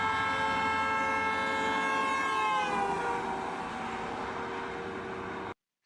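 A loud, sustained car horn blares, then its pitch drops noticeably as the car passes by, continuing lower before cutting off abruptly.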